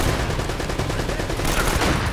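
Gunfire in the video game Uncharted: Drake's Fortune during a fortress shootout, a dense, continuous rattle of shots at moderate volume running throughout.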